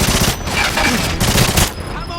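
Continuous rapid bursts of automatic gunfire in a James Bond shooter game, in the St. Petersburg memorial level, loud and close with a steady chattering rhythm throughout.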